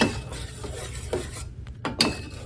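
Tofu being stirred with roasted chili oil and hot peppers in a pan, a few scraping, clinking utensil strokes against the cookware over a low sizzling bed, close by.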